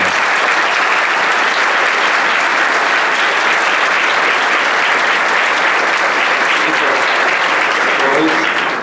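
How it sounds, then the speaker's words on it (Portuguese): A political debate audience in Brazil gives a round of applause for Janotti: loud, sustained, dense clapping throughout with some crowd noise mixed in. "Eu gostaria também de pedir uma salva de palmas para o Janotti."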